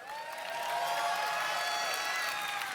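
A crowd cheers and applauds at the E3 2005 games presentation, a steady, distant wash of noise that holds at an even level for a few seconds with no clear voices.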